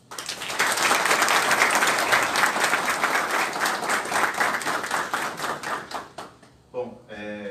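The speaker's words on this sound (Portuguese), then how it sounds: "palmas, por favor." Audience applause at a monarchist gathering in Brazil's Paraíba Valley, dense rapid clapping that swells quickly, holds, then thins to scattered claps before a voice begins speaking near the end.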